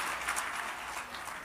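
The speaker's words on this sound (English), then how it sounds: "Clap it up, clap it up, clap it up, clap it up, clap it up" An audience claps in a talk-show style setting, dense close-up applause that stays steady throughout the short stretch with no pause.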